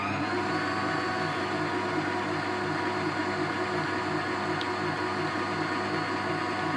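An electric mixer whirs steadily as it beats brownie batter with softened butter in a bowl, a constant, loud motor hum with a rhythmic churning pulse and no voices.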